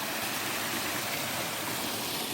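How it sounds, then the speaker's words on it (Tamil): Water rushes steadily through an irrigation channel into a pond on farmland near Erode, a constant, even wash of flowing water with no voices. "ஃபுல்லாக தண்ணி வந்துட்டுருக்குது."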